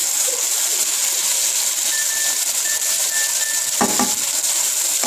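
Hibachi beef frying on low heat gives a steady, soft sizzle, with a faint tone and a couple of brief clatters near the end and no talking.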